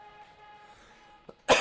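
A short throat catch comes first, then one sharp, loud cough at the very end, close to the mic after a quiet stretch with faint background hum.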